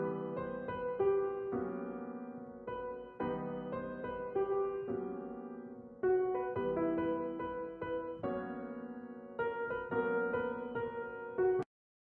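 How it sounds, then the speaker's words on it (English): A solo piano mockup track generated by AIVA plays alone, with repeated chordal phrases and a melody that restarts every couple of seconds before stopping abruptly at the end. "these 3 tracks are piano, mockups I would call them"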